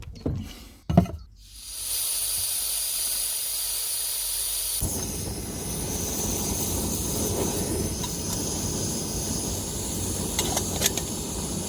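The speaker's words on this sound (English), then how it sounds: "boil the kettle. I think you could hear it roaring away" An electric kettle on a boat roars steadily as its water comes to the boil, a broad hissing rush that swells after a few knocks and clatters at the start and carries on to the end.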